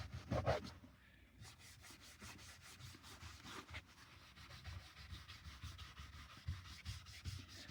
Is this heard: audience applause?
no